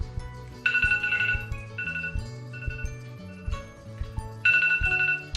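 A mobile phone ringtone plays from inside a pocket on a northern Arizona homestead, a bright repeating melodic tone in several bursts over about five seconds, moderately loud and muffled, with no talk over it.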